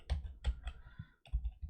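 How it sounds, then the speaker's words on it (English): Keystrokes on a computer keyboard, several quick clicks in two short bursts with a brief pause between, close and fairly quiet, no talking. "But that is done by typing"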